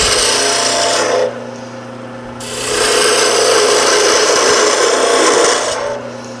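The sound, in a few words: spindle gouge cutting wood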